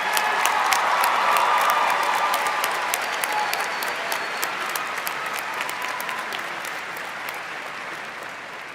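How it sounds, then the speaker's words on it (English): A large crowd at a university commencement applauds master's degree recipients, a loud, dense wash of clapping that holds steady and then gradually eases off. "Please give a round of applause to our master's degree recipients."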